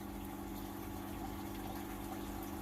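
An aquarium filtration system runs in a crab tank, giving a faint, steady hum with a soft watery trickle that holds constant throughout, with no voices.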